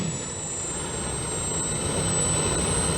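RC model airplanes flying a noon demo at the Joe Nall 2024 airshow give off a steady, loud engine drone with a thin high whine running throughout, unbroken for the whole stretch.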